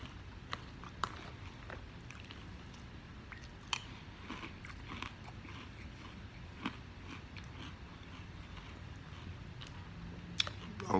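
Someone chews crunchy Kellogg's Chocolate Peanut Butter Corn Pops cereal up close, with steady soft crunching and occasional sharper bites over a low room hum, no talking.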